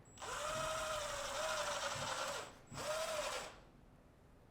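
A power drill drives a screw into a cracked plaster wall in two sustained whirring bursts with a short pause between, the motor pitch dipping under load, close and loud.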